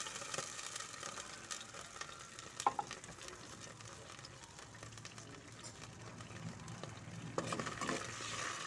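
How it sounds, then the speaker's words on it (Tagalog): Sardines and onions fry quietly in a pan while being stirred, giving a faint, steady sizzle broken by occasional soft scrapes and clicks. "Haluin natin ang sardinas at saka bombay."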